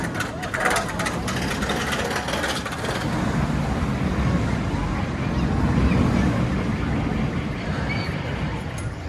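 The Revolution roller coaster at Blackpool Pleasure Beach makes a continuous loud roar of wind and rumbling track that surges toward the middle of the ride, with faint voices mixed in.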